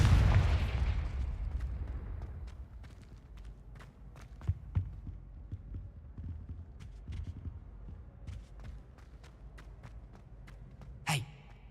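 A Confringo fire spell explodes in the Hogwarts Legacy video game, a sharp blast rising near the end of a quiet stretch scattered with faint game effects and small thuds.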